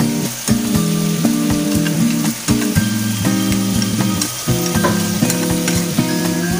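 Ground beef in tomato sauce sizzling in a pan while a utensil stirs it in repeated scraping strokes, loud and close with no talking.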